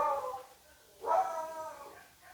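A dog whines and lets out a drawn-out, yowling bark-howl in a quiet room, fairly soft and somewhat distant.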